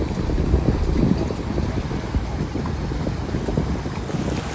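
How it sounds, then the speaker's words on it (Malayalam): Boat crossing a lake at Interlaken, Switzerland, heard as a steady low engine and water rumble mixed with strong wind buffeting the microphone, continuous with no speech. "അങ്ങനെ ഞങ്ങളുടെ ബോട്ട് അടുത്തെത്താറായിക്കൊണ്ടിരിക്കുന്നു"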